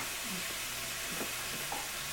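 Sliced sausage fries in a pot with rendered bacon drippings, producing a steady, close sizzle with faint stirring movements and no voices.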